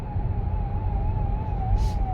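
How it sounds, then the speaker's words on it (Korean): Police car siren wailing steadily in slow-moving traffic after an accident, loud and continuous over the low rumble of the car's cabin. "사고가 났으니까 경찰차가 저렇게 앞으로 막 빨리 가려고 하겠죠"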